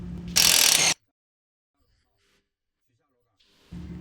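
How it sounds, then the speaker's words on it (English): An electric impact wrench loosens the upper shock mount bolt on a 2014 Ford F150 using a 15mm deep socket. A short, loud burst of rattling hammering comes close up, then silence, and then a second burst starts at the end. "use your 18mm wrench with your 15mm deep socket on your electric impact to remove the upper shock mount bolt"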